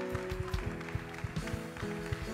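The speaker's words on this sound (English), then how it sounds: "let's give them a hand clap" A church congregation claps in rhythm during a Sunday service, steady sharp hand claps landing on a regular beat over sustained organ or keyboard chords, moderately loud in a reverberant room.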